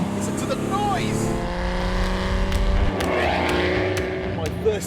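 A Ferrari F12tdf V12 accelerates hard out of a hairpin on a track, its loud engine note rising through the gears, heard from inside the car alongside the driver's voice.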